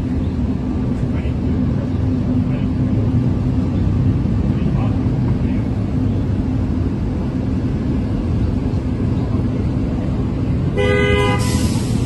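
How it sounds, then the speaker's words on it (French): Over steady traffic rumble and ongoing French speech, a car horn gives a short honk near the end to announce an arrival. "ils sont obligés de klaxonner pour signaler"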